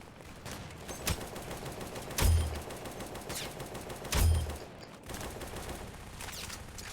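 Gunfire in the video game Aimblox, with heavy booming shots, likely a shotgun, at about two-second intervals, each with a short tail, over a steady background hum of game noise; no talking.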